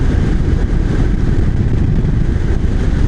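A 2025 Honda Super Cub C125 with its newer long-stroke engine runs at steady revs while riding, a dense continuous engine drone mixed with wind rush, close and loud with no talk.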